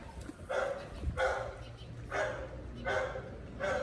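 A male pit bull puppy barks five times in a steady, evenly spaced rhythm, each bark short and moderately loud against faint background noise.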